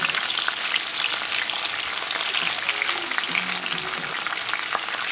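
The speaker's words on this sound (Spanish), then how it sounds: "Y revolvemos." Salt cod and onion frying in oil in a pan, stirred for a salad, with steady close sizzling and light scraping of the spoon throughout and no talk.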